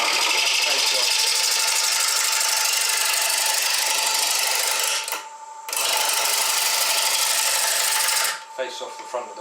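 Wood lathe turning a spalted beech bowl with a freshly sharpened half-inch bowl gouge, a loud steady cutting roar that drops out briefly twice as the tool lifts off the wood.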